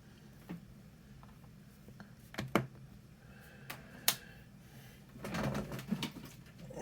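Coloring on a surface while making a 174 Beacon ray lure, scattered scratchy strokes and light taps, a few sharper ticks, then a denser burst of rubbing near the end, close and fairly quiet.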